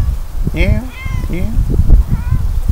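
A cat meows several times nearby in short, rising and falling calls over a low rumbling background, outdoors at a camp where a fire is being built.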